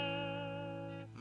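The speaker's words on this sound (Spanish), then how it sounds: "Entonces, este es el sonido del amplificador." POD GO amplifier simulation on its factory default settings, a single sustained guitar chord with a rich harmonic tone ringing out and fading over about a second.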